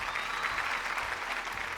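An audience on a Malayalam TV game show gives steady, sustained applause to welcome a college principal, a dense even clapping that fills the whole moment.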